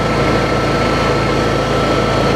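A Honda EU7000iS inverter generator engine runs at a steady 3,300 RPM, giving a loud, constant close hum with no variation.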